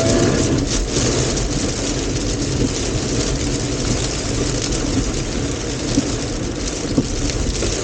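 Heavy rain heard from inside a Hyundai Ioniq 5 while driving, a dense continuous hiss and patter on the body with steady road noise, alone and fairly loud.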